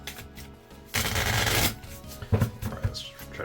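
A deck of trading cards is shuffled in a short riffling burst, followed by softer rubbing and tapping of cards, close and fairly quiet.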